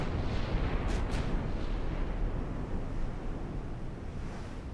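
Battleship main guns firing in the naval combat game Ultimate Admiral Dreadnoughts, a loud continuous roar of gunfire rumble with a couple of sharp cracks near the start, heavy and booming throughout with no talk.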